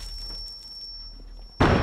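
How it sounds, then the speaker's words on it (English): A flashbang grenade in a Siege video game follows a quiet stretch with a steady high whine, then erupts as a sudden loud blast right at the end. "Flashbang!"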